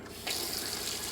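Water starts gushing from a motorhome tap once the fresh water pump is switched back on, a soft hiss that jumps to a steady, full splashing flow into the sink after a brief moment.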